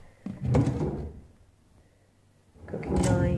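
A kitchen cutlery drawer slides open with a rolling rumble and a soft knock, pauses, then another kitchen drawer slides out nearby.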